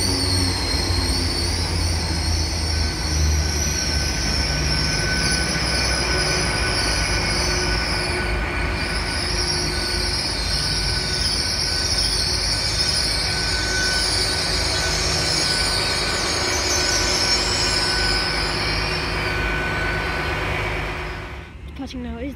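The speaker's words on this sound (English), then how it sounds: "Arriving now is the 1848 Great Western Railway service to London Paddington." A Great Western Railway class 802 train arriving at St Austell station at night, a loud, close rolling rumble with sustained high wheel squeal and hiss, fading into quiet near the end.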